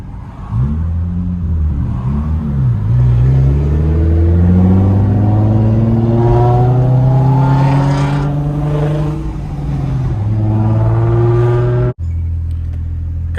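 A Nissan 370Z with a muffler delete drives by with a loud, raspy exhaust drone. The pitch climbs steadily as it accelerates past close by, then the sound cuts off abruptly.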